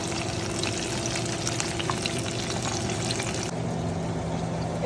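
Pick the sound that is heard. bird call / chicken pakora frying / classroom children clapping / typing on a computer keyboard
chicken pakora frying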